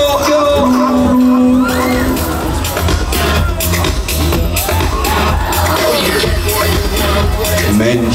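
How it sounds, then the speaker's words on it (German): Riders screaming on the Chaos Pendel fairground ride at a spring fair in Frankfurt: dense, loud crowd shrieks and whoops layered over pounding ride music, with an announcer's voice mixed in. "Mensch, ihr schreit ja wieder."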